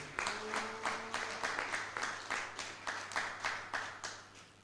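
A church congregation applauds during a worship service, giving steady rhythmic clapping in unison at a moderate tempo, roughly two claps per second, with a faint voice and a low hum underneath.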